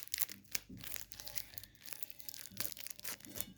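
Crinkly foil wrapper of a football trading card pack tearing open, with repeated sharp rips and crumpling bursts close up, no talk.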